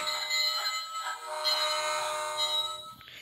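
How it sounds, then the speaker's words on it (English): A toy pig puzzle plays electronic train sounds, bright tonal chimes and a whistle-like melody over a steady mechanical rumble, continuous for about three seconds and cut off abruptly near the end, with no talking. "it does have some train noises"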